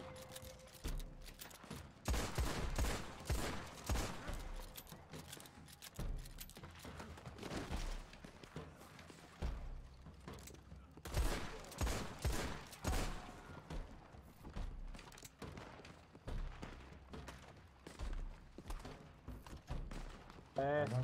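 Gunfire in Red Dead Redemption 2 comes in irregular bursts of dull shots under constant excited talk from players, with busy game sound throughout.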